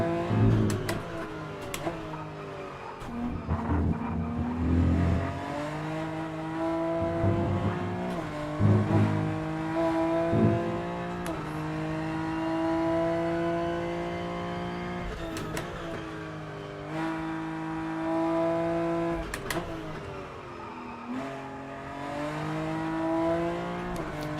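Race car engine in the RENNSPORT sim racing game, revving hard through the gears with rising and falling pitch sweeps and brief lifts, loud and continuous with no talk over it.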